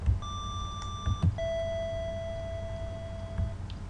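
PSG square-wave synth tones built in VGM Music Maker give two sustained pure beeps, a shorter higher one and then a longer lower one, each sitting over a faint low rumble with a few soft clicks.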